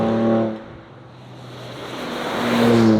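A Ford Ranger Raptor in 4A accelerates on a faster section, its engine note dipping and then climbing again in a loud, close revving pull with tyre and road rush underneath.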